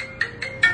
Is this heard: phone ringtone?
yes